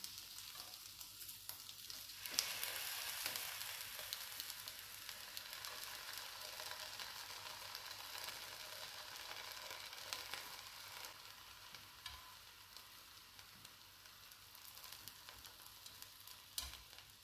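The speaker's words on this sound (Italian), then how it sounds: "Mettiamo un pizzico di sale sulle zucchine e lasciamo cuocere 3 minuti." Zucchini frying in a pan with a pinch of salt, giving a steady close sizzle with small crackles and an occasional stir, and no voices.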